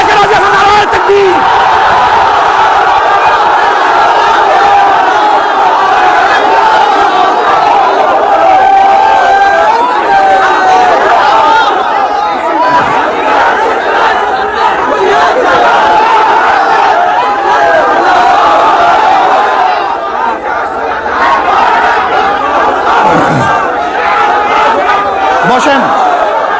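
A large crowd at a Bengali Islamic religious sermon roars back in a long, sustained shout answering the Naraye Takbir call, loud and massed with little break over nearly half a minute.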